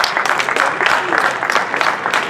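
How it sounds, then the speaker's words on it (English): Audience applause at a jazz festival kickoff at a high school, a steady dense clapping from a sizable crowd that stays loud and even throughout without a break. "make sure you applaud them correctly and show them how we do it around here"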